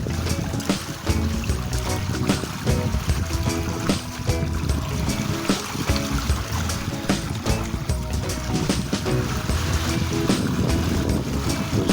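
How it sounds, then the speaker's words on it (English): A sailboat under wind power alone heads back to Grand Bahama, with continuous wind, water rushing along the hull and splashing waves, close and steady throughout. "I was able to kill the engine and sail back to Grand Bahama with wind power alone."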